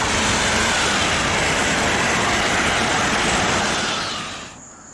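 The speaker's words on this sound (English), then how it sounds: "here comes our southbound train" A southbound train rolls past at close range, a loud, steady roar of wheels and rumble that holds for several seconds before easing off near the end.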